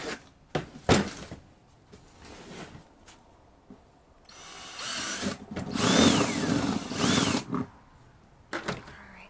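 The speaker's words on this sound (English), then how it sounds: "Please do not critique me on my drilling skills." Power drill boring into wood with a handheld tool, heard close and loud in several uneven bursts with rising and falling motor whine, separated by short pauses and handling knocks, with no talking.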